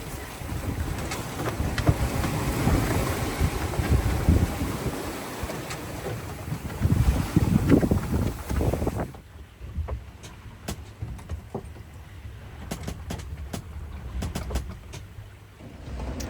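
A solo sailboat runs wing on wing across the Ionian Sea, one sail on each side, with wind buffeting and water rushing around the hull, gusting louder early then easing to a quieter steady wash.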